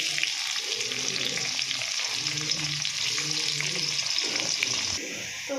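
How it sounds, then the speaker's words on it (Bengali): Onions tossed into hot oil with bay leaves in a wok sizzle loudly and steadily alongside stirring scrapes, the sound shifting abruptly near the end. "এখানে কড়াইতে তেল দিয়ে দিয়েছি, তেজপাতা দিয়ে দিয়েছি। এবার আমি পেঁয়াজগুলো দিয়ে দেবো।"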